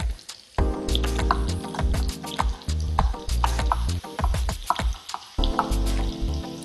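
Steady sizzling of peppers frying in butter in a hot pan, with occasional stirring clinks and scrapes, close and continuous.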